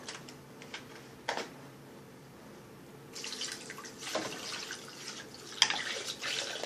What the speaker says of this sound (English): So, I'll add some more water.